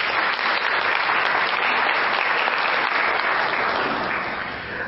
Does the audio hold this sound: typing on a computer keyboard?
no